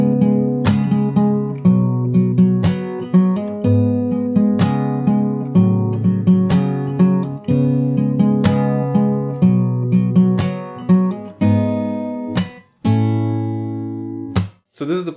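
Fingerstyle acoustic guitar plays the pre-chorus of a song, with plucked notes and ringing chords in a steady rhythm and a few sharp string slaps, played alone and close.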